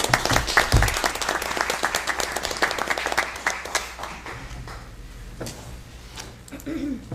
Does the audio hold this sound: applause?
yes